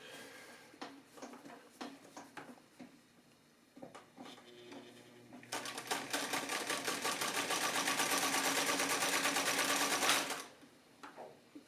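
A Singer 319W sewing machine stitching: a few short taps and whirs, then a steady, fast, loud mechanical run lasting several seconds that stops abruptly.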